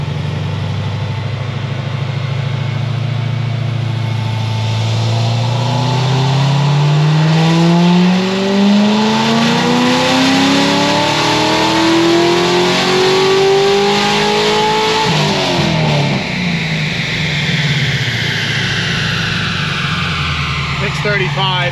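An Edelbrock supercharged Corvette C6Z engine revs hard through a long rising pull from idle, the pitch climbing steadily before cutting back and settling, loud and close, with a voice talking over it.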